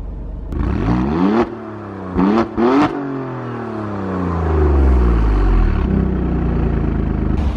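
Alfa Romeo Stelvio Quadrifoglio engine in race mode, loud close revs that rise in three sharp blips and fall away, then a sustained climbing rev and settling hum, with no talking.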